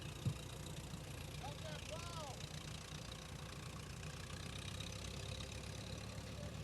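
A John Deere B tractor at a threshing show runs steadily in the background, a faint, continuous low engine drone with voices nearby.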